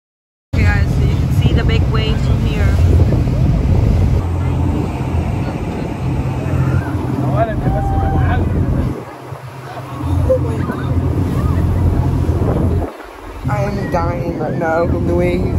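A boat pushes through high waves on the open sea off Marsa Matrouh with a loud, steady engine and wind rumble, two brief dips midway, and voices talking and exclaiming over the noise.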